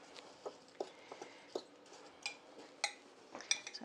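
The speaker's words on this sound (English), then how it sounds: "I'm going to mix that up with a fork and get the butter all over the saltines" A fork mixes melted butter into crushed saltine crackers in a bowl, producing faint, scattered clinks and soft crunchy scrapes at an irregular pace, close and quiet.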